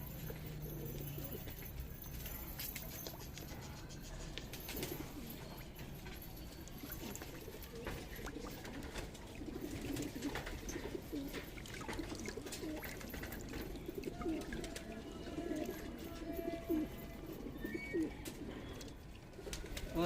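A Punjabi pigeon coos softly in repeated low calls, with faint scuffing and tapping of handling nearby and no speech.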